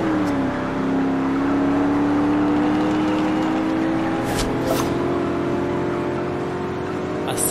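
A Toyota Supra revs and accelerates in the Forza Horizon 2 racing game, its engine note climbing steadily and holding a loud, close drone with brief whooshes from passing cars partway through.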